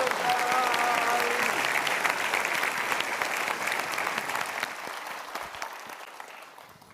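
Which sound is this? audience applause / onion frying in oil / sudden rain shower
audience applause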